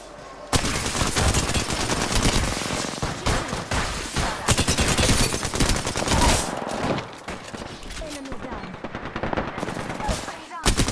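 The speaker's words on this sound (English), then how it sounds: "This gun is so sick! What gun is it? The fucking Hemlock!" Hemlock burst rifle fire in the Apex Legends video game, loud rapid bursts of shots repeated throughout with brief gaps, with excited players talking and shouting over the gunfire.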